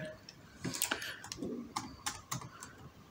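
Someone types a search into Google on a computer keyboard, a quick irregular run of crisp key clicks close to the microphone, with some faint voice in the background.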